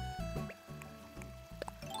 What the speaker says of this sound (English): I'm going to water those.